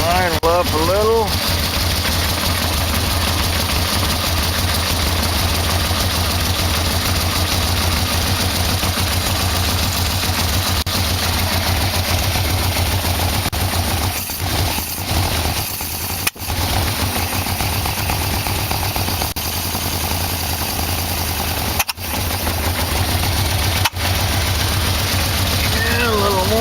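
A Yamaha VMAX motorcycle engine idles steadily and loudly at close range after a carb sync, a constant low rumble with a few brief dips and clicks.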